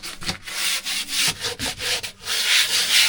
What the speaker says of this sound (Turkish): Bu 2000'lik çok ince bir zımpara.